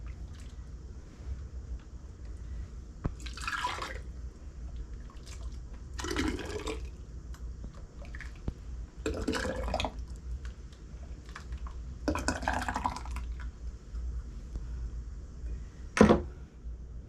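Thick cooked preserve glugs and splats into canning jars in a home kitchen, arriving in four separate wet pouring bursts spaced a few seconds apart over a low background hum, ending with a sharp clink.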